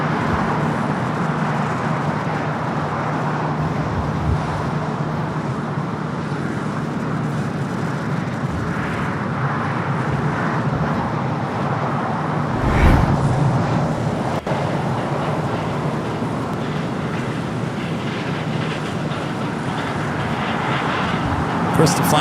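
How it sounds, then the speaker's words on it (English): An Emirates Airbus A380 arriving at LAX makes a steady, loud jet roar that holds through the whole stretch and swells slightly midway, with a voice faintly over it. "up next for arrival of the Emirates A380 Super."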